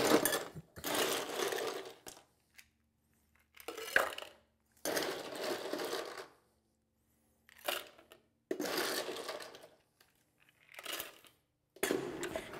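Ice rattles hard inside a cocktail shaker in several loud, vigorous bursts, each about a second or two long, separated by brief silences. Close and with no talking.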